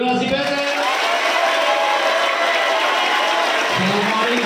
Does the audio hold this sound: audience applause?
yes